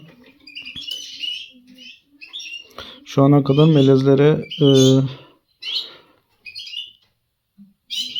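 A small bird sings nearby in short bursts of chirps and a couple of rich warbling phrases, with someone speaking quietly between them.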